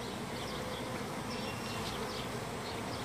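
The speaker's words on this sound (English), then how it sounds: "All these bees you see here, they're all female, except for a few drones." A dense, steady hum of honeybees swarms inside a hive, close and unbroken, with no voices over it.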